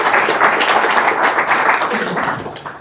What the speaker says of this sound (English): Big round of applause for Mark putting on an event like this.